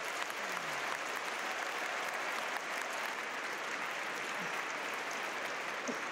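An audience at a church gathering applauds in a continuous, steady wash of clapping, fairly distant and even, with a faint voice briefly underneath.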